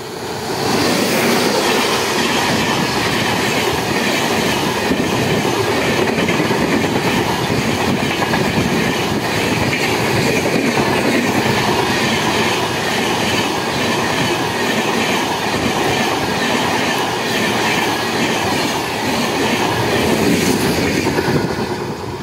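The Vijayawada-Kollam Sabarimala special passenger train with LHB coaches rolls into Jammalamadugu railway station, a loud, continuous rumble with clattering wheels and faint squeals held steadily throughout.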